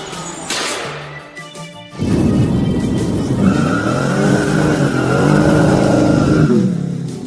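A toy car at a toy show drives up a ramp and crashes, giving a sudden loud, continuous whirring rattle with a sustained whine that runs for several seconds before easing off.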